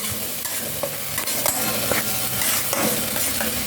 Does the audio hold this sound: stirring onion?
yes